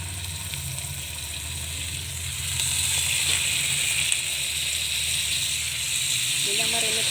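Marinated fish laid into a buttered skillet gives a steady, close sizzle and crackle that swells after a few seconds and keeps going without a break.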